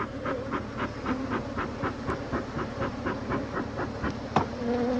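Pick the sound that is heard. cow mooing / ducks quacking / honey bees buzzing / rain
honey bees buzzing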